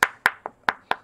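Five sharp, hard taps in quick succession, each a crisp knock with a short ring, as hard Chinese seal ink paste is dabbed firmly.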